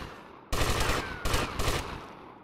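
Gunfire in GTA Vice City Definitive Edition, several loud close bursts of rapid shots in quick succession, separated by brief gaps and trailing off into fading echo.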